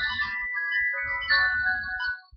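Phone ringback tone sounds while a call is placed at home, a steady electronic ring repeating in short bursts and filling the whole moment without any talking.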